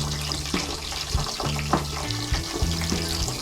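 Onion rings frying in hot oil give a loud, steady crackling sizzle with scattered pops and bubbling bursts, close up and without talk.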